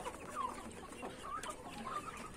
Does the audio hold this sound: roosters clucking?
yes